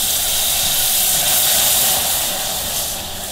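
Steam hisses steadily as water is poured into melted sugar caramel in a pan, a loud broadband sizzle that stays strong and tapers slightly toward the end.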